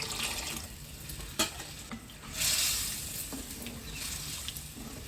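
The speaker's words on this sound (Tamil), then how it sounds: "குழம்பு நல்லா கொதித்து வரட்டும்." A pot of village-style sprouted chickpea and potato curry bubbles and simmers on the stove. The soft sizzling and bubbling runs throughout, with a couple of brief clinks and a swell of louder hissing midway. No one speaks.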